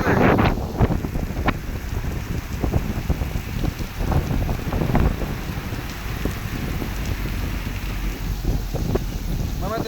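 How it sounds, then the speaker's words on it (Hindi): Heavy rain pours down with gusty wind buffeting the microphone in Madinah, loud and close, with scattered drops and hailstone knocks throughout. "आज मदीना वाकई तेज बारिश आ गई है।"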